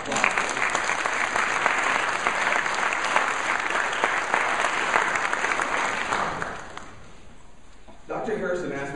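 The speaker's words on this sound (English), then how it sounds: "so we can applaud" An audience at a Collegiate 100 Society initiation event at UVA applauds with dense, loud clapping for about six seconds before it fades away, followed by a short pause and then the start of a voice speaking.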